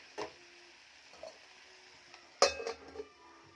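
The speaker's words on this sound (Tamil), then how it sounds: "இந்த மாதிரி இடைக்கிட இன்னொரு முறையும் நம்ம கிளறி விட்டுப்போம்." Sparse clinks and scrapes of a utensil against a pan as finely chopped vegetables are stirred while frying in oil, with a few distinct metallic taps and long quiet gaps between them.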